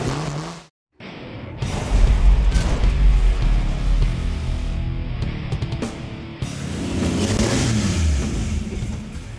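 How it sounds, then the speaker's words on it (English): A hopped-up straight-six engine in a 1949 Chevy 3100 truck with a glass pack exhaust revs hard and loud, rising and falling through several bursts, with a brief drop to near silence near the start. "man, is it neat to hear that engine run"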